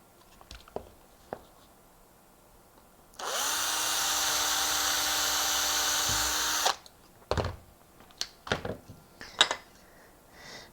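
A power drill whines steadily for about three and a half seconds as it bores a hole in a small wooden gift box, framed by quiet handling clicks and knocks.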